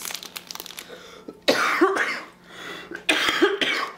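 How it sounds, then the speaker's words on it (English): A sick woman coughs in two hard bursts, the first a double cough followed by a rasp, close and fairly loud in a quiet indoor room. "Sorry about the coughing, y'all."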